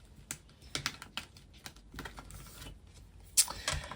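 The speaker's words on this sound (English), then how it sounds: "So what do we do? Roll a dice." Light clicking and rattling from a board game session with dice being rolled, a few sharp taps and small clatters spread out, with one louder knock near the end.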